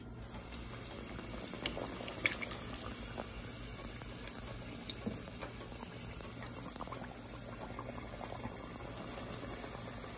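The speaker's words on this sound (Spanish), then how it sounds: "Agarramos las pinzas. Y llevamos al aceite." Chimichangas bubbling and crackling in hot oil in a home kitchen, a steady close boil with scattered sharp pops and spatters throughout, no talking.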